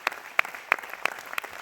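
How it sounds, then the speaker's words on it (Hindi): Applause from an audience at a success-plan seminar, heard as sharp, spaced-out claps that ring clearly, roughly three per second, over faint background noise. "जोरदार तालियां बजा दो यार, जोरदार तालियां।"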